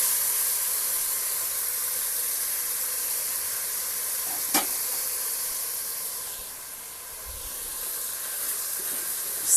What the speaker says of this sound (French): continuez à laisser mijoter quelques minutes